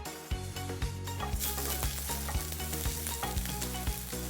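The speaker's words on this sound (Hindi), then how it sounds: "So now in the same pan we are going to saute some vegetables with some sauces. So a dash of oil again, some garlic finally chopped" Garlic sautéing in a dash of oil in a pan, a steady loud sizzle with rhythmic stirring clicks and scrapes of a utensil throughout, no voices.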